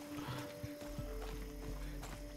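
Horse hooves clip-clop at a walking pace in the video game Far Cry 6, quiet and fairly close, a steady uneven rhythm of soft thuds.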